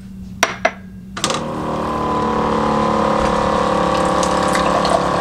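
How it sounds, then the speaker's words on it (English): Water pours steadily into an Aquasana filter pitcher after a few sharp clicks and knocks, a continuous close, fairly loud rushing flow filling the jug. "So let me just show you filling up with the Aquasana"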